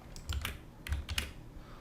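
Keys tapped on a computer keyboard during coding, two short close bursts of clicky typing separated by a brief pause, quiet and alone.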